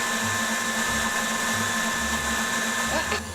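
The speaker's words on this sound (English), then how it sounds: "Now beat for an extra 6 to 7 minutes until it's completely glossy" An electric mixer beats meringue for ghost meringues with a steady, high motor whine and an even hum, holding at constant loudness throughout. Faint background noise sits under the whirr.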